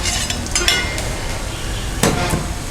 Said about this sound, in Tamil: நம்ம நண்டு சேர்த்துடலாம்.